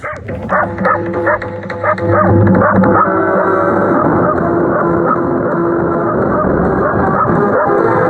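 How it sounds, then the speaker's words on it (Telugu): Dogs bark and yip over and over, loud and close, with whining cries mixed in and a steady tonal backing underneath. "ఊళ్ళో కుక్కలు వస్తున్నాయి"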